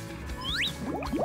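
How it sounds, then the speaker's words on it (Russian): Glue glugging out of a small plastic bottle: rising gurgling chirps and a couple of soft liquid drips, close and fairly quiet. "Выливаем из бутылочки клей."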